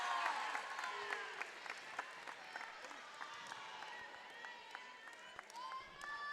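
A crowd at a state championship volleyball match cheers and claps after the winning point in a gym, with sharp repeated claps, squeaks and shouts, fairly distant and sustained, with a commentator talking over it.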